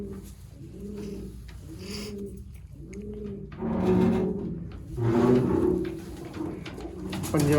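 Pigeons of a rare Sialkoti breed coo in a repeated low rolling rhythm, several soft calls close by, followed by louder shuffling and wooden knocks of handling near the birds.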